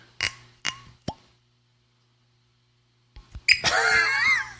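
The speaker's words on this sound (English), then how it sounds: "Let's pop the cork." Cork pulled from a bottle of 100-proof Old Forester 1924 bourbon, a few short soft squeaks followed by a single quick pop, then a sharp squealing noise after a silent pause.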